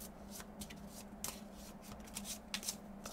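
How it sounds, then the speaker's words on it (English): A deck of board game cards for The Manhattan Project: Chain Reaction being shuffled by hand, a continuous papery riffle with soft flicks and slaps close up; no talking. "So, let's shuffle up and play again."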